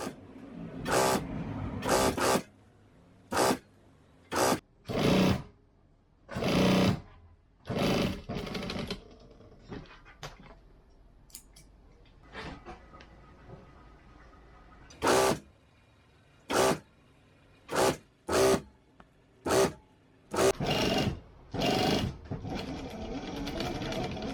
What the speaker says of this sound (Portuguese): Vamos agora para a máquina de costura.